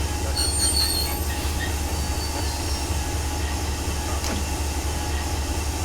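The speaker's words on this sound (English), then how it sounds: "I'm just going to try and stop the train." A train in Train Simulator 2015 rumbles steadily while brakes squeal and hiss as it slows, with a low continuous drone throughout and no speech.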